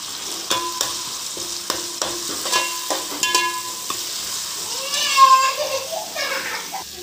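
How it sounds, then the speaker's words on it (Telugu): Ginger garlic paste fries and is stirred in a pan, with a spoon clinking against the metal at a steady rhythm over a soft sizzle and some background voices. "వేగిపోయింది చూడండి అల్లం వెల్లుల్లి"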